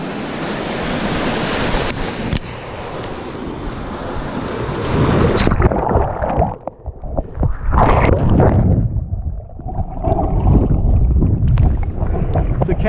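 Waves and wind along the shoreline of Fanning Island in Kiribati as a small boat is paddled, loud wash and wind buffeting the microphone, shifting to closer rough water and splashing halfway through.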